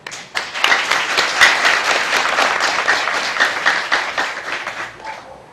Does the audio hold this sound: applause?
yes